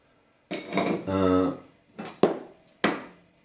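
Kitchen utensils and pots for making apple wine, including a masher and a stirring spoon, clatter and clank in several separate bursts of metal on metal. One longer ringing scrape is heard, and each burst is close and fairly loud.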